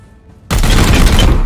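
Gunfire in Warhammer 40k: Chaos Gate – Daemonhunters erupts suddenly after a quiet moment, a loud, dense burst of shots and impacts that continues without pause.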